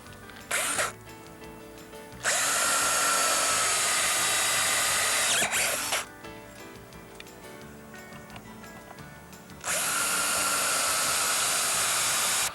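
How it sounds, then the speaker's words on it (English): A power drill whirs loudly in three sustained bursts, drilling holes to mount a boat's bow pulpit and anchor roller, separated by quieter pauses with faint clattering, close by. "hand me the drill and I'll go ahead and drill them out"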